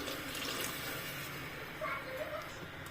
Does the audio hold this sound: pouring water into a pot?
yes